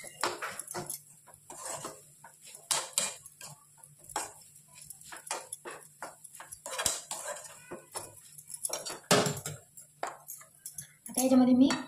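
A coconut ladoo mixture is stirred in a pan, with repeated light scraping and clinking of a utensil against the metal, irregular and close, while someone talks over it throughout.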